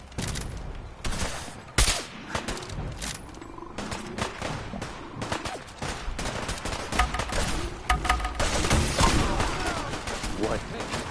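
Gunfire in Fallout 4 Far Harbor, a foggy coastal battle: dense volleys of rapid shots and bursts crackle loudly and continuously, overlapping one another, with voices shouting briefly in the fight.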